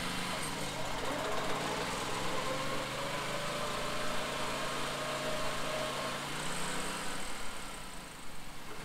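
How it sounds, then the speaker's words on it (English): A BCS two-wheel tractor engine warms up at idle with a low, even rumble, continuous and moderately distant. "Start the tractor and warm up the engine for about 5 to 10 minutes"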